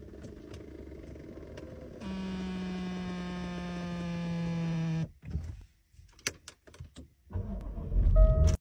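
An electric car seat motor whines steadily for about three seconds as the seat is adjusted. Sharp clicks and thumps follow, and a faint hum sits underneath.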